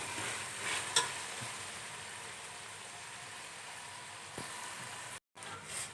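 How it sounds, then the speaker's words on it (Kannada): Chili chicken masala fries in oil with a steady broadband sizzle, stirred throughout, with a sharper scrape of the spoon near the start and a brief dropout late on. "ನೋಡಿ ಇವಾಗ ಚೆನ್ನಾಗಿ ಫ್ರೈ ಆಗೈತೆ ನೋಡಿ ಎಷ್ಟು ಚೆನ್ನಾಗಿ ಫ್ರೈ ಆಗೈತೆ"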